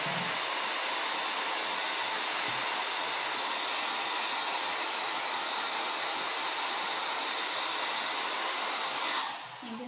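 A hair dryer drying stencil paint in a country-style painting session, running as a loud, steady, close-up blowing roar for nearly ten seconds before cutting off at the end.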